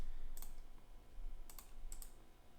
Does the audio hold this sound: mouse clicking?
yes